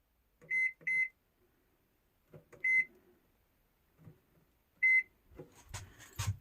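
A new microwave oven's timer beeping in a quiet kitchen: two quick electronic beeps, then single beeps after pauses, followed by faint rustling and handling noise.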